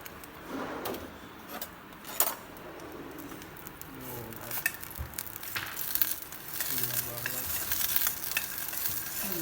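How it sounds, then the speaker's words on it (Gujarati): Chopped onion frying in butter in a home kitchen pan, a soft steady sizzle with stirring and scraping throughout, while voices briefly talk in the background. "હવે આ બટરમાં નાખવામાં આવશે"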